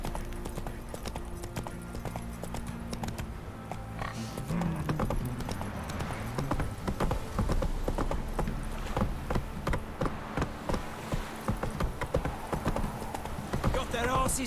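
The horse Roach clip-clops along in The Witcher 3, with steady rhythmic hoofbeats running throughout under game music and someone talking over the gameplay.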